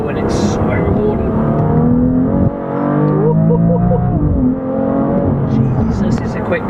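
A 2018 BMW M3 CS sports car pulling hard, its engine a loud, close, continuous roar with a brief dip around a gearshift, heard from inside the car with a voice speaking over it.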